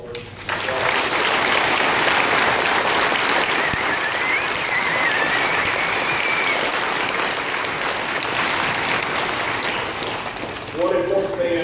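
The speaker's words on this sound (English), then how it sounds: "please join me in a round of applause for them" A Veterans Day program crowd in Knox gives a sustained round of applause honoring veterans, dense clapping swelling quickly and holding loud for about ten seconds before tapering, with a few voices audible near the end.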